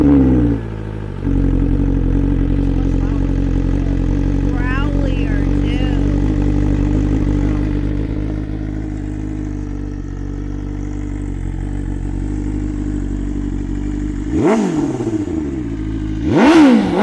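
A BMW S1000RR fitted with an SC Project CRT exhaust idles with a deep, steady burble, then gives two sharp revs near the end that rise and fall quickly, loud and close.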